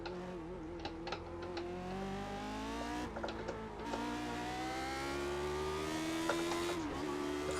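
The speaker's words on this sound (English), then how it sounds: "You can see this guy's just driving past me." Race cars in the iRacing simulator, engines droning with rising and shifting pitch as a rival drives past, revs climbing and dropping through gear changes, loud and continuous without talk.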